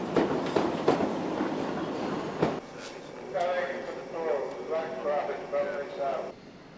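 A Class 319 electric multiple unit runs on the Thameslink line in 1991, with rolling wheel clatter and rail noise heard from aboard, plus some squealing and whining tones, while a narrator speaks over it.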